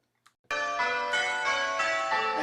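Church bells in Grandsire change ringing, a few faint taps and then a steady sequence of loud, resonant bell strikes overlapping in a continuous ringing pattern, close and clear with no voices.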